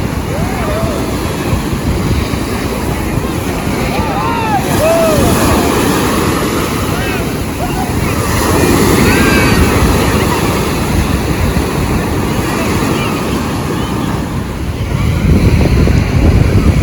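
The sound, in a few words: large ocean waves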